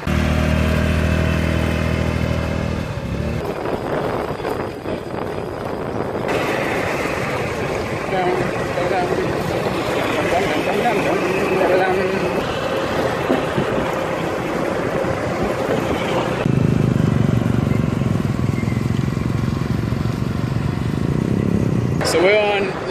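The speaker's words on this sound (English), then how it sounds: "Why do we have a motorbike here?" A motorbike ride with two riders on the bike, searching for a sunset spot: a steady engine drone and road rumble run continuously and loudly, with wind buffeting and a shift in engine tone partway, while people talk over it.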